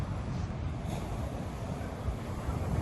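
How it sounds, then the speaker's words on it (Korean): Waves wash ashore at Chuam beach on Korea's east coast near Donghae, a soft, continuous rushing surf blended with gusty wind buffeting the microphone, fairly faint and without voices. "파도가 출렁대는 추암 해변입니다"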